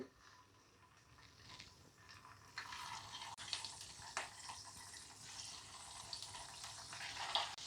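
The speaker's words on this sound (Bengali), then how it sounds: "এবার এটাকে আমি ভাজবো। তেলটা গরম হয়ে গেছে, আস্তে আস্তে ছেড়ে দিই।" Poha and potato fingers go into hot oil over low heat, giving a soft, faint sizzle that builds slightly as more pieces are added.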